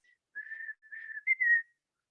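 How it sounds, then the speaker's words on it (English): A person whistles a short tune of a few sustained, wavering notes in a quiet room, close and clear, with no talking. "Now my whistling's off."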